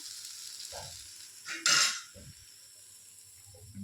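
Ground horse gram curry paste added to hot oil in a pan, giving a brief burst of sizzling and a few stirring scrapes, close and moderate, then settling into a low steady hiss.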